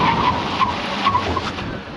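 Tires on a 2023 Lexus LC500h Bespoke Edition skid and squeal under hard braking, a loud, continuous rushing screech lasting about two seconds before cutting off abruptly.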